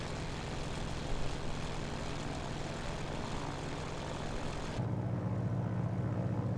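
A Grumman Wildcat propeller engine in a flight simulator game throttling back, a dense steady roar that abruptly loses its higher hiss partway through, leaving a lower, duller drone, with no voices.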